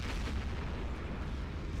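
Artillery explosion in the Close Combat 3 war game: a dense, low rolling boom that rumbles continuously at moderate loudness without a sharp onset, alone with no voices.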